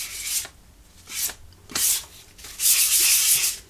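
Sandpaper rubs across a wooden AK rifle stock in several short, raspy strokes, close up, with brief pauses between passes and a longer final stroke.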